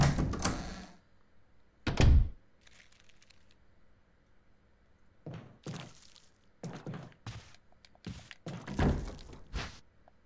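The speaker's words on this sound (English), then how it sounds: "So as you heard that door," Heavy door thuds and clunks from the Resident Evil HD remake, loud separate impacts in the first few seconds followed by a cluster of sharp knocks and bangs, all with no talk.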